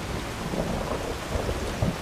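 Steady rain falls with low rumbles of thunder in Skyrim's Enderal mod, a continuous wet hiss with deep rolling booms underneath and no voices.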